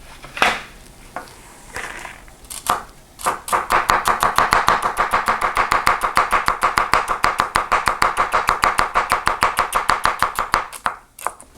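Celery is chopped on a cutting board while ingredients are prepared for rosemary ground beef. A few scattered knocks lead into a long, fast, even run of crisp knife strikes, loud and close, ending with a few final taps.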